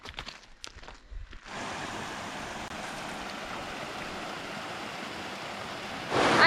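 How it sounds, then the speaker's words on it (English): A Highland waterfall in Scotland rushes steadily at moderate distance, a continuous broadband roar of falling water that starts after a short patch of quieter rustling and swells louder at the end. "this waterfall has created some gorgeous falls"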